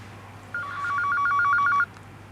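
A telephone ringing nearby in an office, one clear trilling electronic ring lasting just over a second, fairly loud over a quiet room hum, with no voices.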